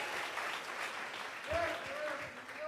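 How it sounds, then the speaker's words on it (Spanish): Congregation clapping during a live Spanish-language church service, a steady wash of applause with a voice calling out and a sung or sustained tone rising in the latter half. "Vamos a regalarle ofrenda de palmas al Dios de la gloria."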